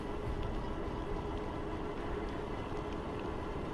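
A Macwheel LNE-16 e-bike rides on throttle in PAS1 with a steady, close rumble of road and wind noise and a faint thin motor whine running underneath, unbroken and without speech.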